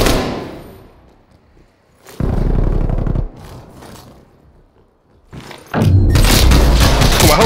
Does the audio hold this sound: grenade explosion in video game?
yes